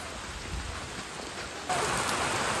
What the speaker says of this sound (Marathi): खूप जोरदार पाऊस आला मित्रांनो